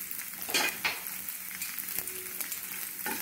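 Cloves and green cardamom fry in hot oil in a pan for sambar, a continuous sizzle broken by a few louder stirring scrapes against the metal.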